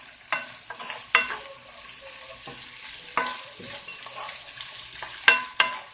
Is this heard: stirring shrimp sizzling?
yes